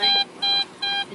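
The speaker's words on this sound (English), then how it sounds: "you put your seatbelt on because of the beeping sound" Car seatbelt warning chime beeping loudly and close in an even rhythm, three bright electronic pulses about a fifth of a second each, with no talk over them.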